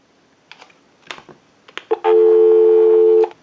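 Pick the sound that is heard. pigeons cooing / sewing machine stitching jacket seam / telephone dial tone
telephone dial tone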